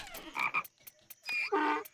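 Frog croaks from the rhythm game Headbangers: Rhythm Royale, a few short bursts in quick succession, close and fairly clear, with other game sound effects around them.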